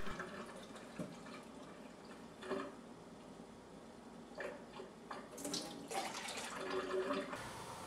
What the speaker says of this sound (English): carefully fill with the fresh water 6 times